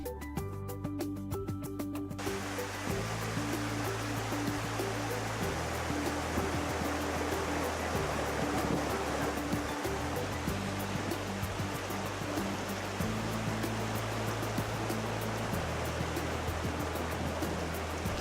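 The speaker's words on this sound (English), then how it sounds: "The sound of the river right next to our camp was just blissful" The Popo Agie River rushes steadily beside a campsite in fall, a loud, continuous broadband roar of flowing water with no pauses, joined by some brief tonal noise at the start.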